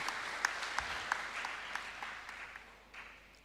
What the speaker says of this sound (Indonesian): Tepuk tangan untuk STKIP